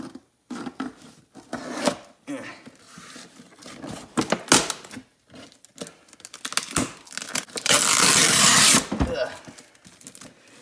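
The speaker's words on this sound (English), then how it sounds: "Whoever wrapped this wrapped it in like 2 rolls of duct tape" Duct tape is ripped and peeled off a heavily taped box in a series of close, harsh tearing bursts mixed with crinkling, ending in one long loud rip.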